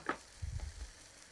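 Green chillies fry in a pan as a utensil stirs them, with a soft low scrape and a faint sizzle in a short, quiet burst.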